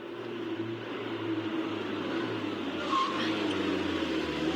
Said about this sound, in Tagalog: naay jeep nagpaingon na dinhi mo na tong sakyan